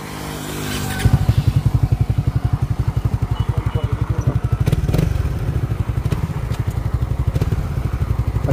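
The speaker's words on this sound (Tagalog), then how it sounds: "Ito, scooter versus ang underbone na manual. Ayan, automatic tsaka manual." A Suzuki Raider 150 manual underbone and a Euro Griffin 180 automatic scooter drag race. Loud, close engines rev hard in rapid pulsing bursts that climb and fall through gear changes.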